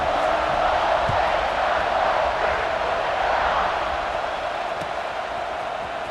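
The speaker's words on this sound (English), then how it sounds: "this crowd now ready to get behind them." Stadium crowd in EA Sports College Football 26 keeps up a steady, loud roar of cheering through the whole stretch, a dense wash of voices with no single shouts standing out.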